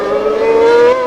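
A 1991 Formula 1 car at the Brazilian Grand Prix, its engine sounding rough with a fault, gives a loud, close, sustained high-pitched whine with strong harmonics, slightly rising in pitch over about a second.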